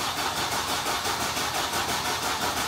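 A car engine being started, loud and close, with a steady pulsing rumble that carries on evenly throughout, and no voices.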